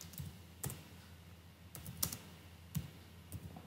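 Quiet keystrokes on a computer keyboard as commands are entered, a few separate clicks and short bursts spread irregularly across a few seconds, close and faint with no talking.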